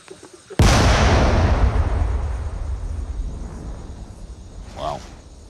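Unexploded ordnance from the war in Laos is destroyed in a controlled detonation: one sudden, heavy blast from a distance with a deep boom that rumbles and fades over several seconds. A voice speaks faintly just before the blast and again near the end.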